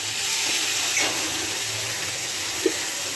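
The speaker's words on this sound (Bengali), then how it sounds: "এবার ওর মধ্যে আমি টমেটো আর আদা বাটা দিয়ে দিলাম" Tomato and ginger paste hits browned fried onions in a pan, giving a steady close sizzle and hiss with one small pop near the end.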